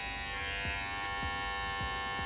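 Cordless barber hair clippers running steadily with a loud, constant electric buzz and hum, slightly louder from wear, alone with no talking.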